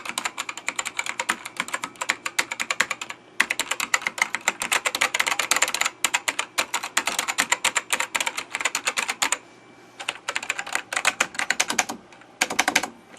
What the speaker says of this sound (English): And we got yet another Dell keyboard.